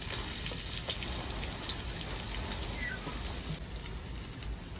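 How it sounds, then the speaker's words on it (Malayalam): Chopped cabbage and capsicum fry in hot oil while pasta is being made, a steady close sizzle with soft crackling pops and occasional small clinks, moderately quiet and without talk. "നമുക്ക് അരിഞ്ഞു വെച്ചിരിക്കുന്ന വെജിറ്റബിൾസ് എല്ലാം ഈ എണ്ണയിലേക്ക് നമുക്ക് ചേർത്ത് കൊടുക്കാം"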